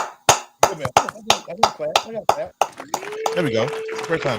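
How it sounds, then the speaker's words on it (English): A short burst of steady, evenly spaced hand claps from a small group on a podcast livestream, close and sharp, followed by someone talking. "Can we give some claps?"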